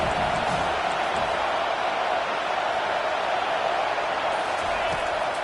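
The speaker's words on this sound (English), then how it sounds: "this crowd is turning it up a notch" A college football stadium crowd at Clemson swells in a steady, dense roar that fills the whole stretch, a broad wall of noise with no clear breaks, and a commentator talks over it.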